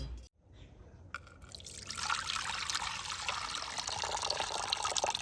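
Dissolved naphthalene water pours into a container in a steady trickle, starting quietly after a brief pause and building into a fuller, continuous splashing stream.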